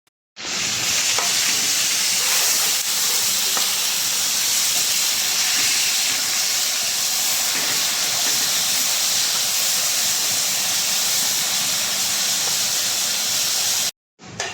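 Onions sautéing with salt in a pan for aloo gobi masala: a loud, continuous sizzling hiss with faint stirring scrapes, close and alone, cutting off abruptly at the end.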